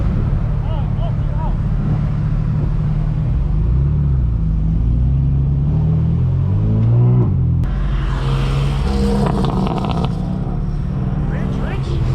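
A straight-piped BMW M4 F82 engine revs and accelerates with a loud, deep rumble that swells and climbs in pitch midway, then turns rougher and harsher, with voices talking over it.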